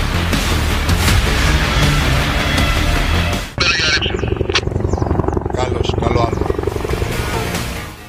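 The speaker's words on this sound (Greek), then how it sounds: "Ακόμη καταγράψαμε πτήση με πολυβόλο προσαρμοσμένο στο ελικόπτερο" Bell UH-1 Huey army helicopter in flight, with a door-mounted machine gun fitted, its steady rotor and engine drone loud and continuous throughout, with a brief dip partway before the noise resumes. People talk over the helicopter.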